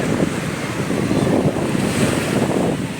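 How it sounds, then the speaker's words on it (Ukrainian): Steady roar of sea waves washing onto a beach at Sunny Beach in August, continuous and fairly loud, with wind buffeting the microphone throughout. "На морі є хвиля."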